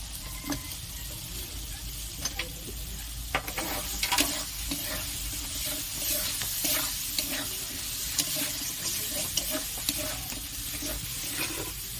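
Moringa drumsticks go into oil already cooked with spices for Bengali shukto, giving a steady close sizzle with occasional stirring scrapes throughout.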